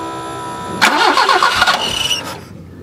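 A 1974 BMW 520 engine cranks briefly and catches, firing up loudly with a rough burst that settles toward idle before cutting off, close and without talk.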